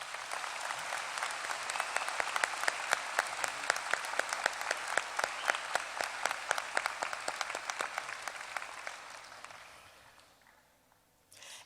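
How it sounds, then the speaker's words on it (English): A large crowd at a high school graduation ceremony claps in sustained applause for about nine seconds, then the clapping thins out and fades to near silence. "Please join me in a round of applause for him at this time."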